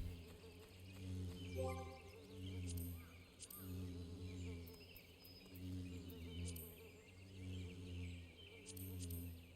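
Gnat-like insect creatures in Final Fantasy XIV buzz continuously with pulsing, wavering drones, rising and falling in loudness through the scene alongside occasional game sound effects.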